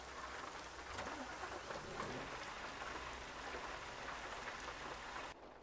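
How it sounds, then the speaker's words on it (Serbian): Heavy rain pours steadily in Euro Truck Simulator 2, drumming on a Scania truck cab before setting off with a 45-ton load; dense, continuous patter that drops off sharply at the very end. "Kiša lije koji iz kabla"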